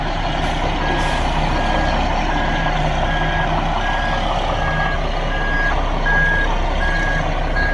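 A concrete mixer truck backs out of a work site with its reversing alarm beeping at a steady, even rhythm over a loud, continuous diesel engine rumble, nobody speaking.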